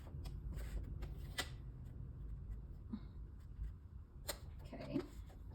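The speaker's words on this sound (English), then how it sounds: "I'm trimming over here on the side." Paper being trimmed for a journal, a few soft close cuts and rustles of sheets with light tapping, quiet and sparse in a calm room.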